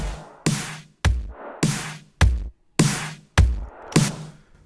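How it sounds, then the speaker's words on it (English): A synthwave drum pattern plays a four-on-the-floor kick with a punchy snare on beats two and four, dry and close in a steady mid-tempo pulse, with no one speaking. "you just have a 4-on-the-4 kick with a snare hitting on the 2 and the 4"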